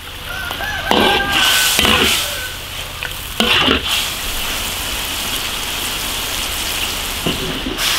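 Deer kidneys in a braising liquid bubble and hiss in an iron pot, with a steady sizzling, simmering wash and a few louder bursts of stirring and clattering near the start.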